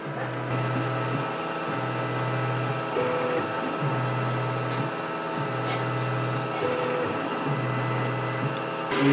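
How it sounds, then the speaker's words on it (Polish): A Creality K2 Plus 3D printer's motors hum and whir in repeated stop-start bursts while drawing a reference pattern for flow calibration, with steady mechanical buzzing between pauses. "drukarka kalibruje sobie przepływ w ten sposób, że rysuje taki wzorek referencyjny"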